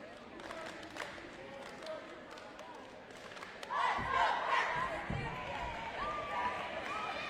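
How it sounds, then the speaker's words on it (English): Bobcat cheerleaders perform during a girls' championship basketball game in a gym, with crowd noise and shouting that swells louder midway and stays steady, scattered thumps and voices mixed through the din. "Another great performance by the Bobcat cheerleaders"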